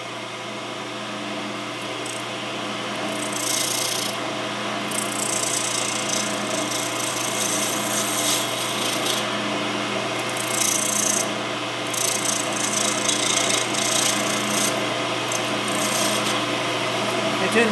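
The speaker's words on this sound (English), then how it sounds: "let's go ahead and get this down to where we're ready to do some sanding." A turned wooden pen blank spins on a lathe mandrel while being sanded, giving a steady close rasping rub over the constant motor hum, with brief surges as pressure changes.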